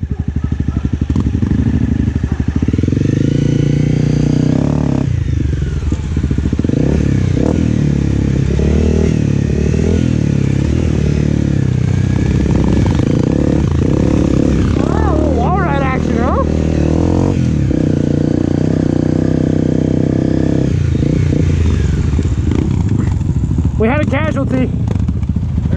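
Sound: motorcycle riding on a canyon trail

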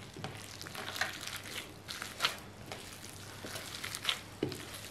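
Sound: mixing chicken mince with egg by hand

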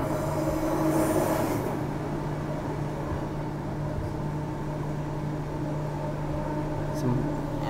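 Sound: Perth train running

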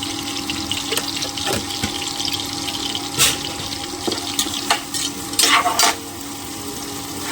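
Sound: onion frying on high flame in a pan

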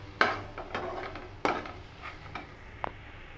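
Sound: ingredients for chutney sautéing in a pan

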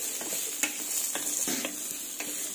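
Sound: sizzling of chopped onions and green chilies frying in a pan

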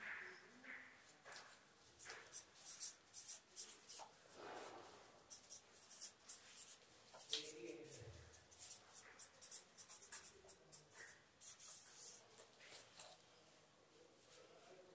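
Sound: writing by hand during a lecture

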